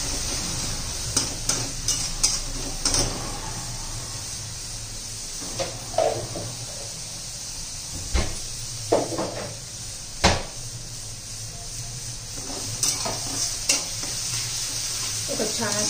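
Green and red chillies sizzle steadily in hot oil in a pan for a green bean dish, with occasional clinks and scrapes of a spatula stirring them.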